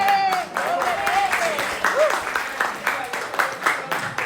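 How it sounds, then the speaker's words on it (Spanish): Congregation applauding during a church service, a wash of clapping with whistling tones and voices mixed in, moderately loud and steady through the short stretch. "Hay que aplaudirle, ¿eh?"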